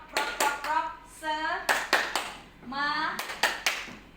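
A school group at SMP N 2 Banjar Agung claps the tepuk semangat ice-breaker, sharp quick claps in short bursts of three alternating with young voices chanting together, close and lively.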